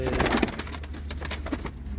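Pigeons take flight from a rooftop, fluttering and cooing amid a busy, noisy outdoor background, with brief wing flaps and soft bird calls through the two seconds.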